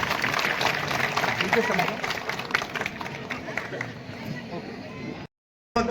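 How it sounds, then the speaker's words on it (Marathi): An audience at the Savitri festival in Aundh claps in a sustained, lively burst of applause with crowd noise, fading somewhat before cutting to silence near the end, while a voice speaks over it. "अरे टाळ्या वाजवा त्यांच्यासाठी"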